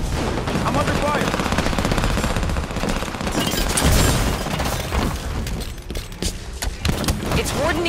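Rapid automatic gunfire and heavy impacts fill a Halo 5 Warzone battle against Prometheans, dense bursts with booms and shattering, while a voice speaks over the combat.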